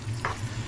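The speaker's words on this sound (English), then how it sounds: "You can hear now, it's just starting to sizzle away." Steady sizzling of pork frying in a pan, a brief scrape near the start, under a low hum.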